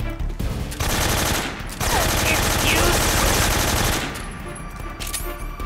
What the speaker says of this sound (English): Let's try the AK.